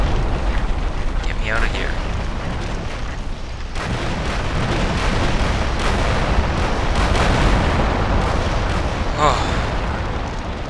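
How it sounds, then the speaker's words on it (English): Rockets launching and exploding in Minecraft Crazy Craft, a dense continuous roar of blasts and booms with whooshing streaks, loud throughout, while a player talks over it. "Oh, I got an idea. Come on, rockets!"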